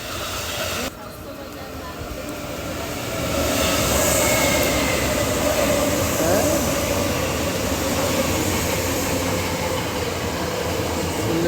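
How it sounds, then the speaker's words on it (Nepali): A train pulls into a station in Osaka. Its rumble grows louder over a few seconds and then holds as a steady roar with a faint wheel squeal, while people talk nearby. "त्यहाँ ट्रेन आउन लाग्यो"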